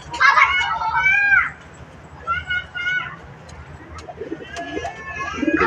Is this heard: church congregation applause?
no